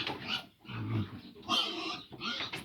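A pregnant sow, about three months along, in a backyard piggery grunts and growls in several close, loud bursts with short pauses between them.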